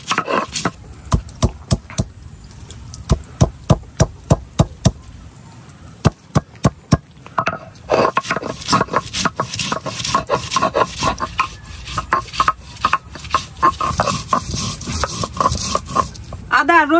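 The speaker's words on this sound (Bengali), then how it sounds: "এখন আমি আদা রসুন পেঁয়াজ এগুলা বাইতে নিলাম।" Ginger and garlic ground on a traditional grinding stone in a village kitchen: rhythmic rubbing and rasping strokes, with sharper knocks early on, then steady continuous scraping, close and fairly loud.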